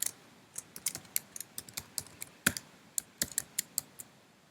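Crisp keystroke clicks from a password being typed on a phone, arriving in an uneven series of about twenty taps over several seconds, close and fairly quiet with no talking.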